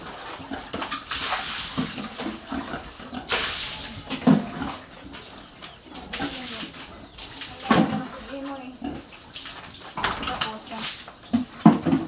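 Water splashes and sloshes in irregular bursts as a pig is bathed while people talk nearby, with occasional squeals and bumps over a running-water hiss.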